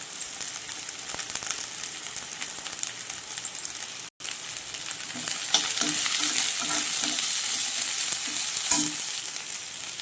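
Vallarai (Centella asiatica) greens sauté in a hot pan with a continuous, close sizzle. Stirring adds repeated scrapes and light clinks, and the sizzle swells louder partway through after a momentary cut. No voices are heard.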